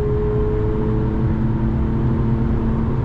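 Steady low engine hum of a 2016 Infiniti Q50s AWD (364 hp) on the move, a constant droning rumble with a faint whine, no voices.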